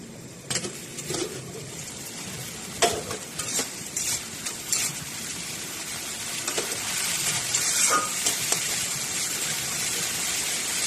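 Hilsa fish head and Malabar spinach being stirred in a frying pan, with scattered clinks and scrapes over a steady, soft sizzle that thickens toward the end; no one speaks.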